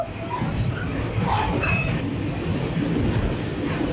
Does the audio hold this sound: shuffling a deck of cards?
no